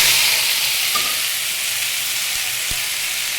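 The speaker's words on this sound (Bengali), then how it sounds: "এবারে এই যে কুচিয়ে রাখা শাক এটাকে দিয়ে দেবো।" Chopped tender red amaranth leaves hit a pan tempered with black cumin and ginger, producing a loud, steady frying sizzle that eases slightly, with a couple of faint knocks underneath.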